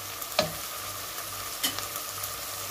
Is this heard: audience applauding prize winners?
no